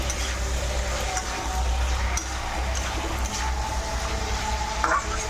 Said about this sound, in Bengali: আরও কষিয়ে নেব।